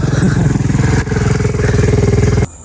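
A motorcycle engine putters close by with a steady rapid rumble at an estate near a forest, then cuts off abruptly near the end.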